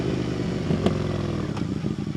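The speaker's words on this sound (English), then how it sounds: "the exhaust note after you remove the tips is actually incredible" An Indian FTR 1200 S motorcycle with its exhaust tips removed, giving a loud, raw exhaust note with throttle blips and a downshift, riding close and steady throughout with no talk.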